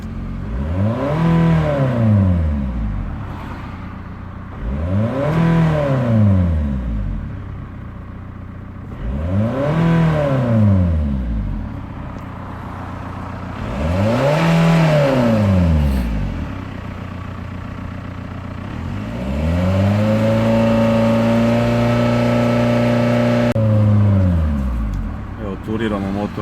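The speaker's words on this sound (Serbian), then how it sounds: "Sad ćemo da ga isturiramo par puta." An Audi A4 2.0 TDI diesel engine is revved repeatedly during a decarbonization test, five loud rising and falling rev sweeps followed by a longer hold at higher revs, close and alone.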